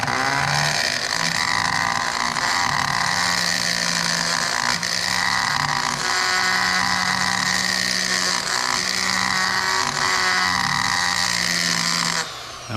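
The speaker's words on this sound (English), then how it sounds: "So now I'm just gonna go in here and start grinding this out." A power grinder works out the inside of a 360 Magnum throttle body in a continuous loud, high whine, its pitch wavering slightly as it bites into the metal, running close and steady until it winds down at the end.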